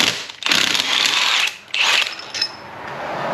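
Ratcheting and mechanical clicks while the last head bolt comes loose on a 445-cubic-inch Ford 7.3 Godzilla V8 engine, with close bursts of wrench turning separated by short pauses.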